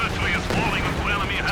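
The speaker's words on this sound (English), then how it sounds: "And the flame barrage from the mortar coming in." Continuous booming gunfire and explosive rumble as a mortar's flame barrage lands in Company of Heroes 2, loud and dense, with a commentator talking throughout.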